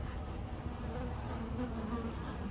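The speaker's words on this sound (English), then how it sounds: "I do hope y'all enjoy watching bees up here in northwest Louisiana." Honeybees drone steadily around strong colonies at a cow-pasture apiary in northwest Louisiana, a dense, continuous buzz that holds close and even throughout, with no speech.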